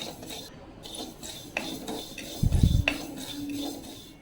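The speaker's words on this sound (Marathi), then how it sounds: "इथे मी कढईत हालीम घेतला आहे आणि हालीम आपल्याला मंद गॅसवर अगदी भाजून घ्यायचा आहे" Garden cress seeds are dry-roasted over a low flame in a kadhai, with irregular metallic scraping and clinks of a spatula against the pan and a louder rattling burst midway.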